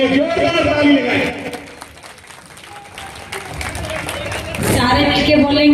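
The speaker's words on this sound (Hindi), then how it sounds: "जोरदार ताली लगाएं।" Crowd at a political rally in Haryana for candidate Saraswati Kanda breaks into applause, a dense clapping roar that swells, dips in the middle, then surges again, loud and close under a voice on a loudspeaker.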